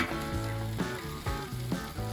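Smoked pulled chuck roast laid on a hot griddle crackles with a loud, continuous sizzle, and a few clanks and bumps come about every half second.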